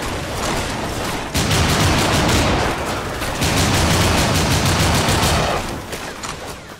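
Loud, dense gunfire from the video game NecroVisioN: Lost Company, rapid automatic bursts stacked into a continuous barrage with brief dips, close and overwhelming, without speech.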